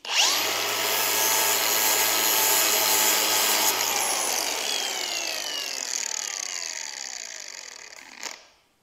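Bar soap scraped hard against the edge of a spinning angle grinder disc prepped for grinding aluminum, a loud continuous rubbing whir that holds steady for about eight seconds, then winds down and cuts off.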